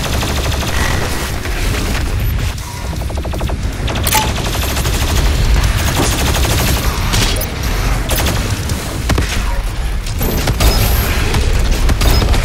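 BFG 10,000 firing in DOOM Eternal: a loud, continuous barrage of heavy rapid blasts and booming impacts with deep rumble, sustained without pause.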